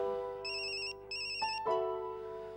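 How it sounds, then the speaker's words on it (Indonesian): A phone's electronic ringtone sounds in two short melodic bursts followed by a steadier tone, clear and alone with no talking over it. "saya terima telepon dulu."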